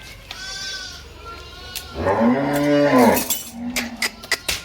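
Village cattle in the monsoon season give a long, low, close moo that swells and fades, with fainter calls and some knocking and shuffling around it.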